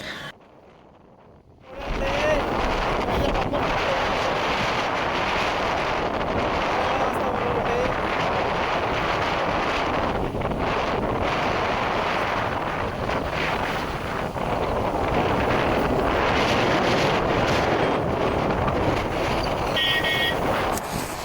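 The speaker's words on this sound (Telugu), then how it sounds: "గాలి ఓనిస్తుంది, మొత్తం బ్రిడ్జ్ కూడా ఊగిపోతుంది" Strong sea wind buffets the microphone on a long bridge over the sea at Rameswaram, a loud, continuous roar after a brief quieter start.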